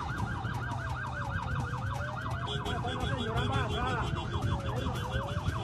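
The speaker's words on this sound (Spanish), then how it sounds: "Son 3 las ambulancias" Ambulance siren wailing in rapid rising and falling sweeps, a second siren overlapping midway, steady and moderately loud under background noise and faint voices.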